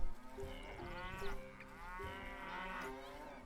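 Cows mooing in the strategy game Stronghold, several harmonic lowing calls in close succession over steady game background sound, moderately loud and without speech.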